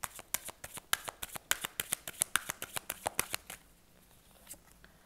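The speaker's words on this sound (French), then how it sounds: "On va recouvrir certaines cartes pour avoir plus d'informations." Tarot cards are laid out and handled close by in a quick series of about twenty crisp flicks and slaps. After a short pause come a couple of softer, isolated card sounds.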